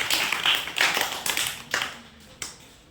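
Classroom clapping rewarding a correct answer in a math quiz, a few separate bursts of hand claps from a small group, fairly close, with no talking.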